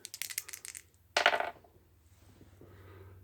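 Two dice are rolled in a tabletop wargame, a quick rattle of tumbling clicks followed by a second louder clatter as they settle, close and sharp against a quiet background with low hum.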